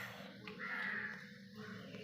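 A crow caws once in a drawn-out call outdoors near a home kitchen setting, moderately loud over steady low background noise, with no talk.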